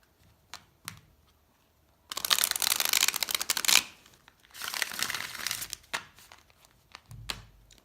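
Stiff, new tarot cards of thick card stock being shuffled: two long, loud riffling bursts of crisp crinkly rustle with a few soft taps and handling knocks between them, close up with no talk.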